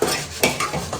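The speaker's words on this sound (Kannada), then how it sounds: "ನಾನು ಚಿಕನ್ ಒಗ್ಗರಣೆಗೆ ಹಾಕ್ತೀನಿ." Chicken drops into hot tempering oil in a home kitchen, giving a brief close sizzle with a few quick scraping and clinking touches of utensil against pan, all within about a second and with no voices.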